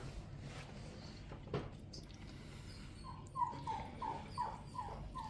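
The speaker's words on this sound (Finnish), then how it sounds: "Se on sit koira, joka ulisee." A dog whimpers and then howls in a series of five or six rising, wavering cries, fairly close, over a low background rumble.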